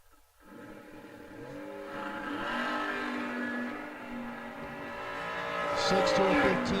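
A purple S10 and a Camaro drag race, with engines revving and roaring and tires squealing as the cars launch, the sound building in loudness while an announcer talks over it.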